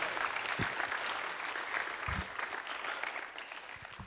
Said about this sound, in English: Can somebody give Him a hand clap of praise?